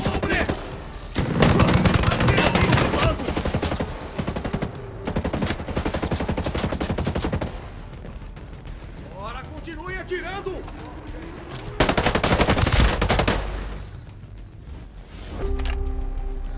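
Rapid bursts of gunfire from Ghost Recon Breakpoint, loud and dense in several long stretches with short pauses between volleys, while voices shout over the shooting.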